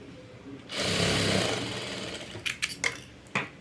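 A sewing machine runs in a close, loud burst while stitching a piping joint on blouse cloth, followed by a few short clicks and bumps of handling.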